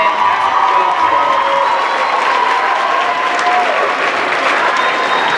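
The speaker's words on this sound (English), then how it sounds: "just one more round of applause for both the band students and the choral students who did such a fantastic" Sustained, dense applause from a school concert audience saluting band and choral students, with scattered cheers and shouts mixed in, steady and loud throughout.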